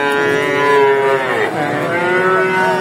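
Cattle moo loudly and steadily at a Bogura livestock market selling cows and heifers, one long drawn-out bellow close by with a rich harmonic tone that dips midway and carries on.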